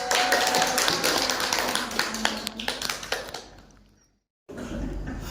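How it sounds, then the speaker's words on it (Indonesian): Applause from a classroom group of teachers and students, a dense burst of many hands clapping that fades out over about four seconds, followed by a short silence and then room noise. "Beri aplaus."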